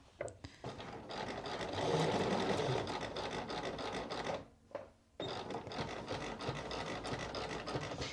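A sewing machine stitches along a trouser waistband, a close, steady mechanical whirr that pauses briefly midway, then resumes and runs on to the end.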